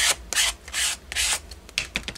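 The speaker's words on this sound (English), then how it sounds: "gift card, and I'm just going to use this to scrape" An old gift card scrapes paint across a mixed media paper page, making repeated rough rasping strokes, close and fairly loud, each about a quarter second long with short pauses between them, with no talking.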